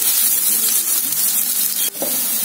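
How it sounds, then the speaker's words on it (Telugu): Sliced onions fry in a pan toward golden brown for an okra dish, a close, continuous hissing sizzle with a brief stir or knock near the end and no speech. "ఇది కొంచెం గోల్డెన్ బ్రౌన్ కలర్ కి వచ్చేదాకా వేగనియాలి ఉల్లిపాయలు"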